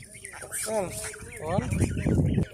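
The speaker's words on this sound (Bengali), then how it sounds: "মা রাজহাঁস সম্ভবত রাগ করতেছে আমাকে দেখে" A mother goose, seemingly angry, honks and hisses in a Bangladeshi village among her goslings, with harsh nasal calls rising and falling close by, broken up by people talking.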